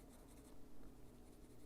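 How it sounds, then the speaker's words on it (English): Soft colored pencil strokes on paper with light pressure, a faint, quiet scratchy texture with small irregular bursts, heard close and alone. "Not putting a whole lot of pressure on this, just enough to get the color on there."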